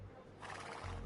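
Scout Cavalry horse from the video game Age of Empires II gives one short, close whinny lasting about a second.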